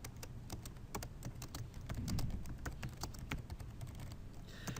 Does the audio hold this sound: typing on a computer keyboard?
yes